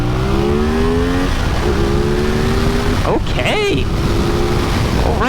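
A CF Moto 450SS motorcycle pulls away and accelerates hard, its engine note climbing through rising pitch sweeps with gear changes, loud under rushing wind, while a rider speaks briefly.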